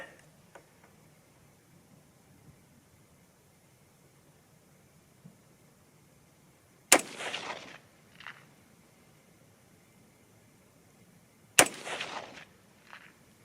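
Two loud .243 Winchester rifle shots during varmint practice from a rest, several seconds apart, each a sharp crack followed by a rolling echo, with quiet outdoor stillness and faint clicks between.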